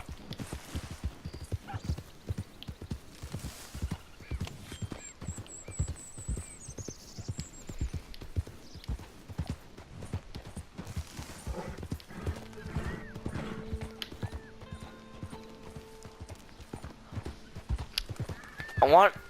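Rhythmic clip-clop of hooves trotting steadily for a long stretch in Red Dead Redemption 2, with a horse whinny early on and occasional higher game-like tones layered over it.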